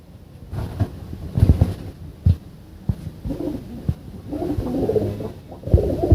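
Low, throaty cooing from several pigeons close by, repeating in soft rolling bursts with some wind rumble on the microphone.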